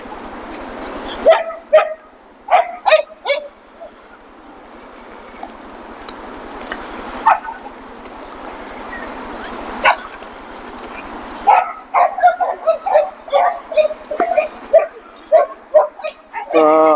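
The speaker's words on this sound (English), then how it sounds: "Pretty dogs." Dogs barking in Balboa Park, San Diego, in scattered bursts: a few sharp barks early, then a rapid run of repeated yips and barks near the end, fairly close and loud over quiet outdoor background.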